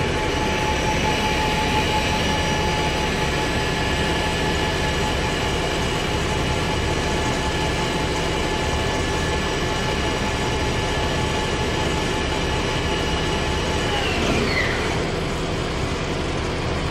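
A Kitamura MyCenter HX1000i horizontal machining center spindle spins at 4000 RPM, a loud, steady machine whine holding constant, with a brief falling sweep near the end.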